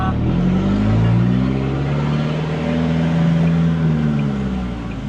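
A car in reverse gear launches with a loud, sustained engine drone that rises slightly in pitch and holds steady, close by, with no talking.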